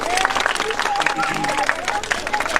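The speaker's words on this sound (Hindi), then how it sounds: "ताली बजाओ बच्चों" Small children at a primary school in Basini village, Safidon, clap together in a steady patter of handclaps, with voices and chatter mixed in underneath.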